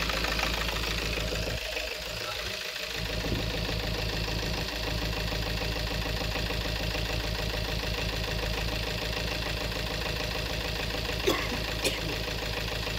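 A misfiring Peugeot engine idles with a steady, uneven knocking chug that keeps going for the whole stretch, close and fairly loud, with a few faint clicks near the end and no talking.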